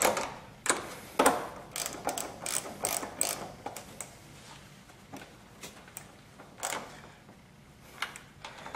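A ratchet tightens the negative terminal clamp on a car battery, clicking in rapid bursts of close, sharp ticks separated by short pauses over several strokes.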